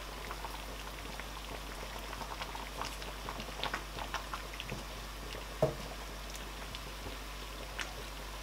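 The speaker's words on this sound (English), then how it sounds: "Now I'm going to cover and let that simmer for 10 minutes." Tilapia and stockfish Nsala soup simmers in a covered pot, giving a faint, steady bubbling patter with scattered soft pops and a low constant hum beneath it.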